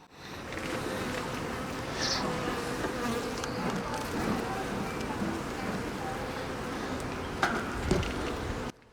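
Honey bees buzzing during an urban top-bar beehive inspection in March, a dense steady hum close to the microphone with occasional louder passes, while people speak quietly over it.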